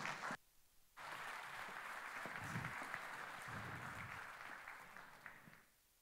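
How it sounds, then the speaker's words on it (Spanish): Audience applause welcoming a speaker at the opening of a Colombian coal summit, 2025: a short burst, a brief pause, then steady clapping from a hall crowd that carries on for several seconds before fading out. "Recibamos a Carlos Cante con un fuerte aplauso"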